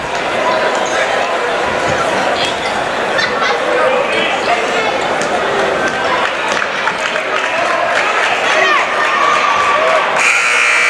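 A loud gym crowd at a varsity boys' high school basketball game roars and cheers steadily throughout, with a buzzer sounding near the end over shouting and commentary.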